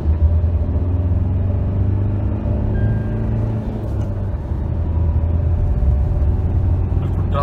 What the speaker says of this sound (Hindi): मैं स्पोर्ट मोड डाल दिया मैंने और आप गाड़ी की देख सकते हैं पावर